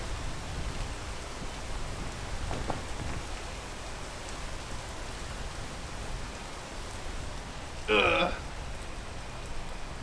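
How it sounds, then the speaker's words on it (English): Rain falling outdoors, a steady soft wash of drops throughout, with a brief low thump early on and a short sharp burst of noise near the end. "Also, it's raining"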